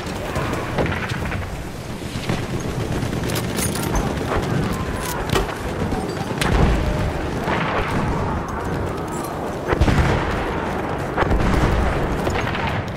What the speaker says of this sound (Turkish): Bomba gönderiyorum!